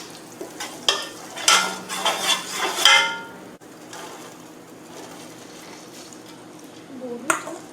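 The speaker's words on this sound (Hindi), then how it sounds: "अभी मैं सब चीज़ों को मिक्स कर रही हूँ" Chicken masala, rice and vegetables being stirred together in a pan over a low flame, with a few close scraping and clattering utensil strokes, followed by quieter soft mixing.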